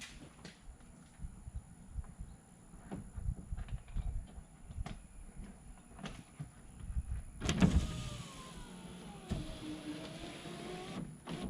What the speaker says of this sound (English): So I'm going to plug the window in and just lower the window.